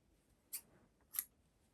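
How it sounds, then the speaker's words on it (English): Two quick snips of scissors cutting contrast yarn beside a Brother KH-270 knitting machine, short crisp clicks about half a second apart in a quiet room. "unthread the contrast yarn from the carriage and cut it"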